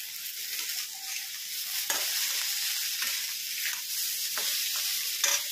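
Tomatoes hit a pan of frying bhaji, a steady soft sizzle running throughout with occasional spoon stirs and scrapes, close and fairly quiet.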